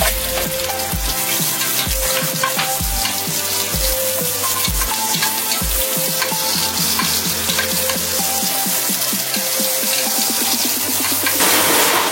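Onions sizzle steadily in about one tablespoon of oil in a pan, a loud continuous frying hiss with a low music bed running underneath.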